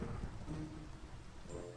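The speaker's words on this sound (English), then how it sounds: "I saw lightning strike the ground right before my eyes" Thunder from a lightning strike in Minecraft, a low rumbling roll with rain-like hiss over it, fairly faint and continuous without talk.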